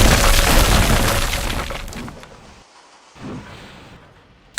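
A wooden railway carriage is smashed to splinters: a loud crashing, shattering burst at the start trails off into scattered cracks and debris, then quiet with a brief late rumble.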